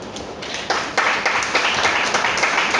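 Steady applause from an audience at a book event for an author in Osapa London, building quickly after a soft start and holding as continuous, fairly close clapping.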